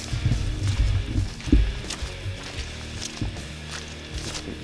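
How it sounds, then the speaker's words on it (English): Footsteps walking on muddy ground on a quiet outdoor trail, a series of soft, squelchy, dull steps heard up close in an irregular walking rhythm. "hearing my footsteps on how muddy it is"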